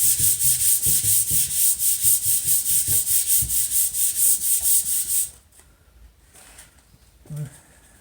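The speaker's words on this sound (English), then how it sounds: "And I think it's because the sanding sheet's clogged" A wooden table plank is sanded by hand with a clogged sanding sheet, giving loud, rhythmic rasping strokes about twice per second for five seconds, then stopping, leaving quiet room noise and a brief knock.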